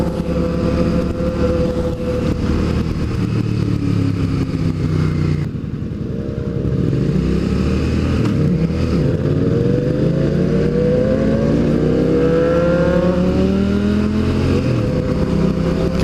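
A straight-piped vehicle with an open exhaust revs loudly and close by, a harsh continuous roar that dips briefly, then climbs and falls through repeated rising and sweeping revs, alone with no talk over it.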